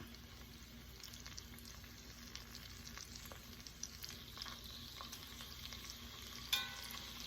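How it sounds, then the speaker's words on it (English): Seasoned chuck beef for a Guinness beef stew sears in a pot with a soft, steady sizzle, faint and even, with a few small clicks and one brief sharper tap near the end. "I'm going to add the beef stew to the pot, not overcrowding the pot"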